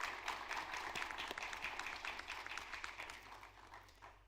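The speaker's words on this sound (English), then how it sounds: "warm applause." An audience at a Carter Center Board of Councilors meeting applauds warmly, a dense patter of many hands clapping at moderate distance, holding steady and then tapering off over about four seconds.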